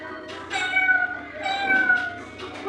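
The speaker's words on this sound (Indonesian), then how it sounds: "Kucing adalah hewan piaraan yang sangat ramah dan lucu." A domestic cat meows several times in a row, the drawn-out calls fairly close and clear with short pauses between them and no talk over them.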